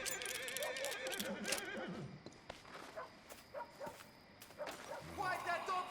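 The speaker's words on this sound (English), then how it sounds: "Quiet that dog before I quiet it for you." Dog barking in the Western video game Red Dead Redemption 2, mixed with cutscene dialogue and horse sounds, the barks coming in repeated bursts under the talk.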